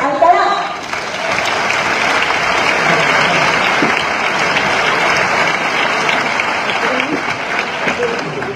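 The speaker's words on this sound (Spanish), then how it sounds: "recibamos con muchísimo cariño, con un fuerte aplauso" Audience applauding a female singer at the final of a national copla contest in Córdoba, Spain, steady dense clapping from a large crowd sustained throughout, loud and close.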